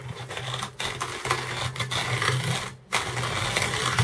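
A cheap coffee grinder bought from China grinds beans with a steady, fairly loud rasping whir, holding constant for about four seconds apart from a brief dip near the end.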